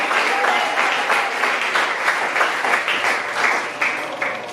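Church congregation applauding together, a dense, steady wash of clapping that fills the whole stretch with slight swells, no voices above it.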